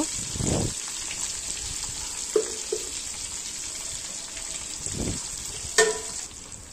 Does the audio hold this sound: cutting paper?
no